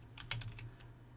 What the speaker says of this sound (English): And then you want to type Chrome